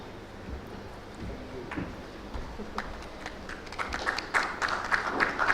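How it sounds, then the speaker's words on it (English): Scattered clapping from a conference audience at a cancer summit and awards event, sparse and faint at first, then building into quicker, louder applause toward the end. "A big round of applause, please."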